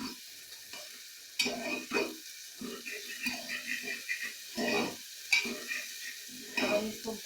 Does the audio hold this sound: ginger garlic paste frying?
yes